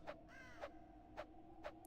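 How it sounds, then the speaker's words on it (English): Four evenly spaced crow caws ring out, faint and somewhat distant, over a low, steady ambient drone, from the video game Banjo-Tooie. "It even has like crows."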